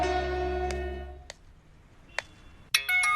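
A mobile phone rings while a friend's number is dialled: a sustained tone fades out, followed by a few sharp electronic blips and a bright melodic ring at the close.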